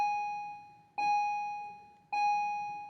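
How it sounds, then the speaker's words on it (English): Bells ring in three evenly spaced electronic chimes, each a clear bright tone that strikes and slowly decays, with no talking. "Sorry about those bells."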